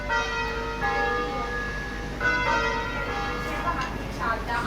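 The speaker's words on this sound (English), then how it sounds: "This is like just church bells." Church bells ring out across an Italian city street in Milan, a steady layered peal of overlapping tones with people talking faintly nearby.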